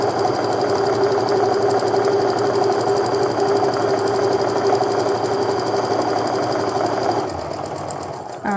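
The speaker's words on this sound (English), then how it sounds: "So now I'm sewing down the other side of this line." Sewing machine stitching a quarter-inch quilt seam along a drawn line, a loud, close, steady motor whir with rapid needle chatter that eases and slows near the end.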